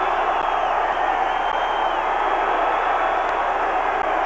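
A crowd of about 40,000 fans fills Giants Stadium before a 1991 WLAF NY/NJ Knights versus San Antonio football game, heard as a constant broad roar of murmuring voices with faint cheers.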